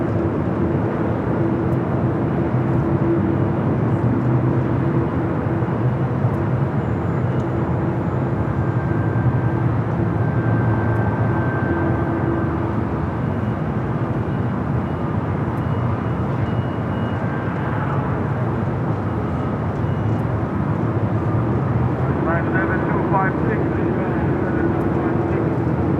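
A heavy airliner taking off from runway 24 Left at Los Angeles International Airport gives a steady, continuous broadband jet roar for the whole stretch, with a faint voice now and then beneath it.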